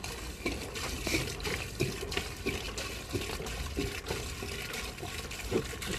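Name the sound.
water flowing down a duplex drain line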